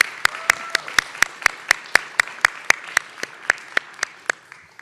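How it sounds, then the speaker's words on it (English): Sparse applause from a small meeting audience at a board meeting: about twenty sharp, evenly spaced claps, close by and moderately loud, like one or two people clapping slowly and steadily. "I'd like to give her a round of applause"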